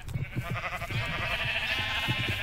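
Minecraft sheep bleat several times in quick succession, close and clear, with no talking over them.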